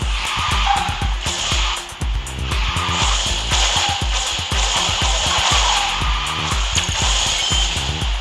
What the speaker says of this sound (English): let's see if I can slide drift here.